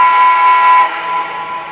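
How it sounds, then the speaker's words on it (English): A Lionel Legacy Blue Comet 4-6-2 Pacific model steam locomotive sounds its electronic whistle, one loud, steady chime-like blast that then fades off, heard alone. "The whistle blow verifies that it took the command."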